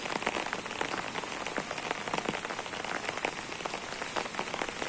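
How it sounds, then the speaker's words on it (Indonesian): Steady rain falls in a rural village after raining all night, a dense, even patter of drops on surfaces close by, continuous and fairly loud with no voices. "Karena hujan dari semalam, hujan ini gak berhenti."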